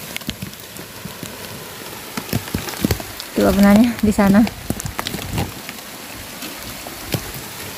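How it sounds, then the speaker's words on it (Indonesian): Steady heavy rain hisses throughout in strong wind, with a person speaking briefly over it midway. "Udah hujan, teman-teman."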